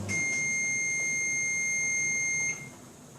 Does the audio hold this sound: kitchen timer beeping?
yes